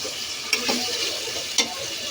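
Onion, garlic and ginger frying and being stirred in a kadai for haleem, a steady broadband sizzle with two brief sharper scrapes of the spoon, close and alone.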